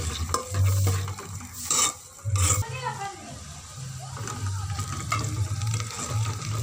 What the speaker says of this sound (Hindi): प्याज शामिल करके हम इसको फ्राई करेंगे।